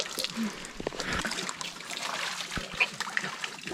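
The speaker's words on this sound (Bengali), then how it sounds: "এক ঢাল থেকে পানি আসতেছে তো আমরা বোতল ভরে নিলাম" Cold spring water from a hillside trickles and splashes into a bottle in an uneven stream, close up, with small gurgles and drips and no voices.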